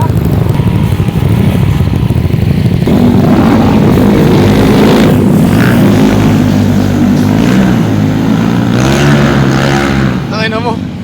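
A loud aircraft roars away as it departs at an airfield, its engine noise steady and heavy throughout, with people shouting and cheering excitedly close by over the drone.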